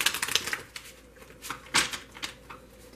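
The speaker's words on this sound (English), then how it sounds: "I'm going to start shuffling." Tarot cards being shuffled by hand: quick riffling, papery flutters in uneven bursts, close and fairly crisp, with no voice over them.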